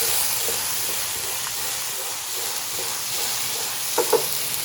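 Chicken masala fries in a pan with a steady, close sizzling hiss, interrupted near the end by two quick stirring clinks.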